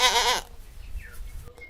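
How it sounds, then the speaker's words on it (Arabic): A goat bleats once, loud and close, with a wavering harmonic cry lasting under half a second, followed by faint low background noise. "ماعز."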